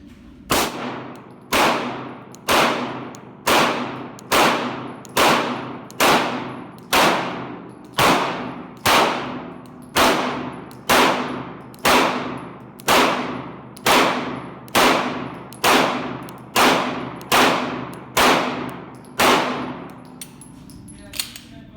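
A Glock 19X pistol fires about seventeen loud, evenly spaced shots at a shooting range, each a sharp crack with a ringing decay, followed by a pause at the end.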